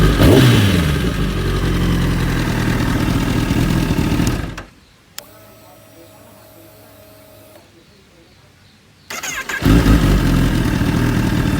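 Kawasaki ZX10R sport motorcycle from the 2011-2015 generation, its engine running loud and high at close range, cutting off mid-clip to a quiet hum before roaring again.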